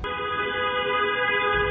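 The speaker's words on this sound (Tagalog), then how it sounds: "may malakas na busina" A loud, sustained car horn blares continuously, close and alone.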